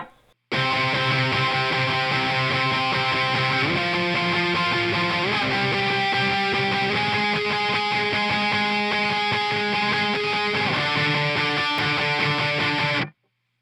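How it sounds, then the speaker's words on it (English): Distorted electric guitar playing octave chords in the bridge of a song, a steady sustained wall of dense, loud chords with a few shifts in pitch, played alone with no talk. "and then the bridge comes in"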